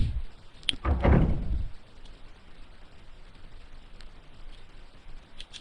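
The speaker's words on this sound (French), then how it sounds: "Vous avez déverrouillé la porte." A door opens in the Resident Evil video game, a single heavy thud and scrape near the start followed by quiet room ambience with a few faint clicks.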